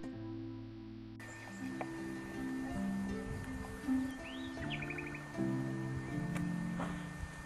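Birds call among varied vegetation, giving a few short, bright chirps and a quick trill midway. They are fairly faint against a sustained low tonal background.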